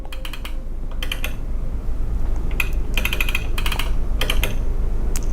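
Fingers tap on a computer keyboard in quick bursts of crisp clicks separated by brief pauses, close and clear over a steady low background hum, with no speech.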